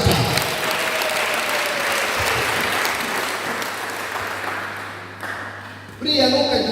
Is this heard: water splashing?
no